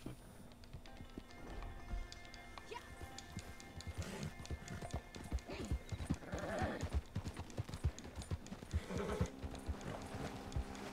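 Galloping horse in Red Dead Redemption 2, rapid, dense hoofbeats that build and stay loud across the stretch, with faint game sounds behind and no clear talk.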